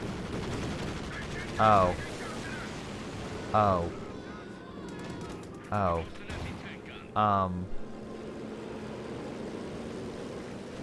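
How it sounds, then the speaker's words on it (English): In the Company of Heroes 2 game, a strafing run and precision artillery barrage hit in four separate bursts of roaring fire and booming impacts spaced a couple of seconds apart, with a brief exclamation from a voice. "So strafing support was called in, and precision barrage was called in"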